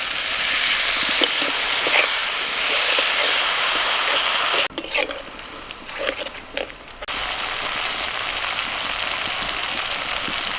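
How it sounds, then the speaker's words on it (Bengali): Spice paste of turmeric powder and salt with a little water sizzles and fries in a pan while being stirred, a steady hiss broken by a few scraping stirs midway before the sizzle resumes. "সামান্য জল দিয়ে কষিয়ে নেব।"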